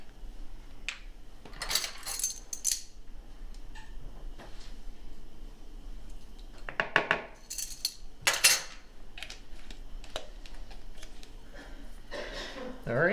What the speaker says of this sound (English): we want to mix this until it just comes together